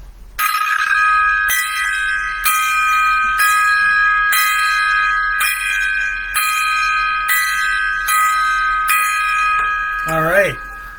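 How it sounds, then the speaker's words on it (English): Ten sustained bell-like gong strikes sound in a steady, evenly spaced series, each ringing out loudly into the next, with a brief voice at the end. "we'll go ahead with the 10 gong salute to Sam Neill and Jan Michael Vincent"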